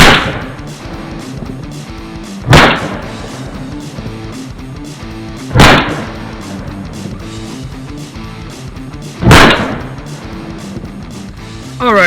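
Three sharp, loud shots from an Arcus 98DAC 9mm pistol ring out about three seconds apart over a steady outdoor rumble, with no talking.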